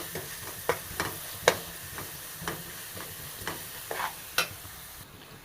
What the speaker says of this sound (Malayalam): ഇതായി ചതച്ചതിട്ട് കൊടുക്കാം ഇതൊന്ന് വഴറ്റിയെടുക്കാം നന്നായിട്ട്